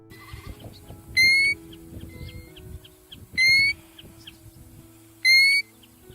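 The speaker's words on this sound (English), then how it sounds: "First up is the golden plover." Golden plover calls ring out as three separate clear, whistled notes, each about a third of a second long and evenly spaced, rising above a low background murmur.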